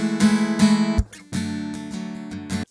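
Raw acoustic guitar recording for a song, with strummed chords ringing out before an abrupt choke mutes the strings, then more strumming resumes with short dips where the strings are stopped.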